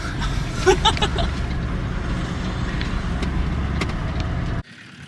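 A tall 4WD vehicle pulls away on a wet off-road track in the Bendleby Ranges, Flinders, with a steady loud engine roar and rumble for several seconds before it cuts off abruptly.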